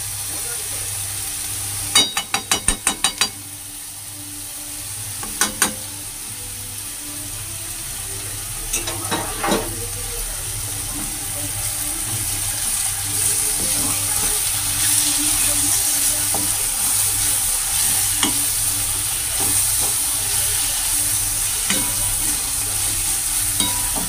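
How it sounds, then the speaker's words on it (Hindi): Roasted spice masala sizzles and fries in a pan while being stirred, a steady hiss with sharp clusters of scraping stir strokes near the start and scattered clinks later. "तो ये भुना हुआ मसाला हम डाल दे रहे"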